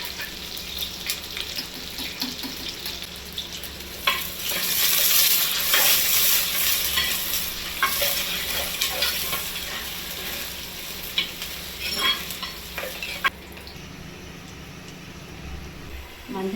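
Onions and garlic sizzle and crackle steadily in hot oil, close by, with occasional stirring clinks and a louder burst of frying partway through.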